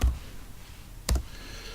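Two sharp, quiet computer mouse clicks in creating software test cases, spaced about a second apart over faint room hum.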